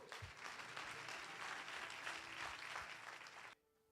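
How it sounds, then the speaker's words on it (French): Theatre audience at a premiere applauds, a dense, sustained wash of many hands clapping for about three and a half seconds before stopping abruptly. "Je demande un tonnerre d'applaudissements pour Thierry Trussello."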